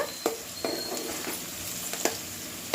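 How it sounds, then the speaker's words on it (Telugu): Green chillies and onion fry in hot oil for a tamarind-free fish curry, a soft sizzle punctuated by several sharp scrapes of stirring in the pan. "పచ్చిమిరపకాయ వేసుకొని తిప్పుకోవాలండి"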